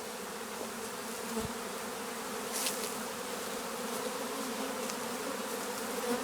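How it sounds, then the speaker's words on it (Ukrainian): A swarm of honey bees buzzing around a hanging bait trap outdoors, a continuous dense hum of many wings at steady moderate loudness throughout. "І знову рій."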